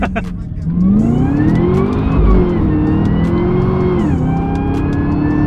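A supercharged V8 car accelerates hard up close from inside, its engine note climbing loudly, dropping briefly at two gear shifts, then rising again.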